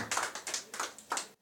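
A church congregation claps in bursts of applause, a brief rhythmic patter of hands that fills the sanctuary for about a second and a half before cutting off abruptly.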